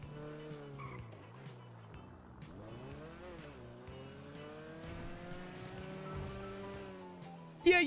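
A car in GTA driving fast with squealing tires, its engine whining and rising in pitch through a long skid, ending in a sudden loud impact or jolt.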